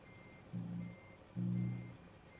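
Truck reversing alarm in American Truck Simulator, a Kenworth T800 mod, gives two steady low electronic beeps about a second apart, fairly loud and clean against a quiet background.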